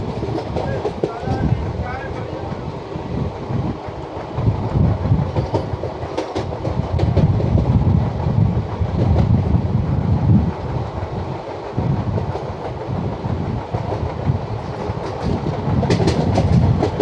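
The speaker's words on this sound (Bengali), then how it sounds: "আসছে একটা লোকাল ট্রেন।" A local train rumbles past close by with a heavy, continuous clatter and rhythmic clickety-clack of wheels over rail joints, wind buffeting the microphone throughout.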